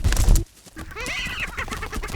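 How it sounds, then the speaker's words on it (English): Prairie chickens on a grassland display ground give a few soft clucks and calls, moderately close, after a short burst of low rumbling at the start. "and a bit of clucking."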